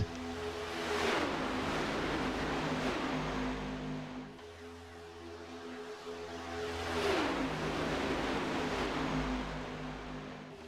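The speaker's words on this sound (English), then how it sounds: "If you ever wonder what 25 Cadillacs screaming by you at full song with those big throaty V8 sounds like, it's about like that" Cadillac CTS-VR race cars with big V8 engines scream past on a superspeedway at Daytona, the roar swelling as they approach, fading, then building again in a second loud wave of pass-bys.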